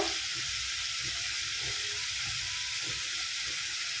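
Semolina frying in a pan with ground coriander, turmeric and chilli powder, a steady close sizzle with faint stirring scrapes, no voices.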